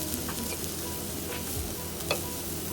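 Spices with coriander powder and chicken masala sauté in a pan, giving a soft, low sizzle and occasional stirring scrapes throughout, fairly quiet and with no talking.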